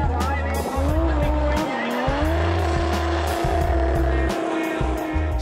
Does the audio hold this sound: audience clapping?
no